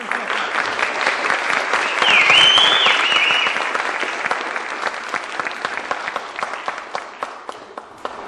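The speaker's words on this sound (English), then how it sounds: "customary to clap until the performers have bowed" An audience claps for the performers at an instrumental school concert, a dense, sustained round of applause that swells and then gradually thins out, with a brief whistle.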